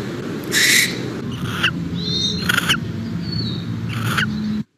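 A captive barn owl gives a series of harsh, hissing screeches, four separate bursts spaced about a second apart, loud and close over a steady low background hum.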